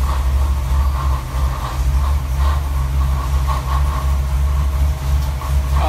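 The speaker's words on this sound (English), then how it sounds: "we're getting some dyno testing done on this 408 with the Holley HiRam" A Ford 408 stroker V8 with AFR heads and a Holley HiRam intake runs steadily on a dyno, a loud, dense low drone that holds constant throughout with no talk.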